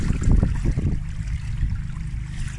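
Floodwater rushes over a road in Townsville, a steady broadband wash of flowing water that stays loud and continuous throughout, with a rougher, more turbulent burst near the start.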